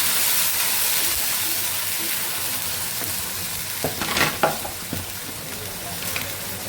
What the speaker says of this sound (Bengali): রসুন আমি একটু পেঁয়াজের সঙ্গে ভেজে নিচ্ছি